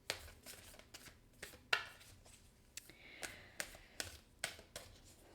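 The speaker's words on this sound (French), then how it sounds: "je vais aller chercher une autre carte" Tarot cards are shuffled and drawn by hand, a quiet run of crisp riffling slaps and flicks in an irregular rhythm, close up and alone with no talk.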